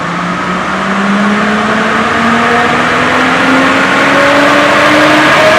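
A car engine revs steadily upward on a dynamometer with its second engine map engaged, the pitch of the loud, continuous engine note climbing smoothly over several seconds with no talk.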